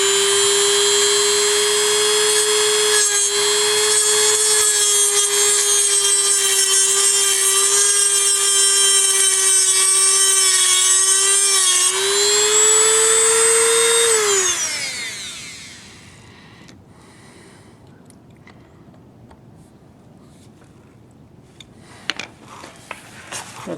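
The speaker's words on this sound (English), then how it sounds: "I just scored it a little bit with my Dremel tool, just enough to put this flat-bladed screwdriver in there" Dremel rotary tool grinding into a metal backflow preventer: a loud, steady high-pitched whine holds for about fourteen seconds, then winds down and falls silent, leaving faint clicks and handling near the end.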